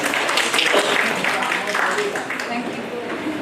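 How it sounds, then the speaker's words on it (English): An audience at an ophthalmology conference award ceremony claps for a prize winner, a dense, fairly loud spread of applause with voices talking and calling out over it. "Clap, clap, clap."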